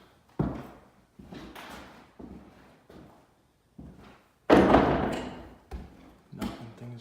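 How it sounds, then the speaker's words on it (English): Household objects get knocked over during a DIY crown molding installation, giving a string of irregular thumps, knocks and clatters at varied loudness, with one especially loud crash partway through, and no talking. "Knocking things over"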